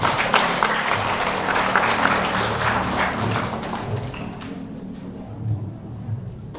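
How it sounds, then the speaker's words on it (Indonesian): Wedding guests applaud as a newly married couple is introduced, a loud dense burst of clapping that thins and fades over the last couple of seconds into a quieter room murmur. "Mari kita tepuk tangan."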